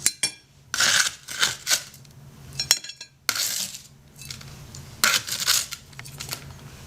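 A metal spatula scrapes baked onion rings off an oiled cookie sheet in several loud, bursty strokes with short pauses between, close and alone.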